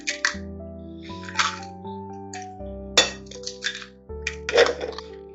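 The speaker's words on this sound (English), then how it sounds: "Put the eggs in." Eggs clink and knock against a metal pot as they are placed in one by one for a Passover meal, a series of sharp ringing clangs and chinks with lingering metallic tones, close and alone.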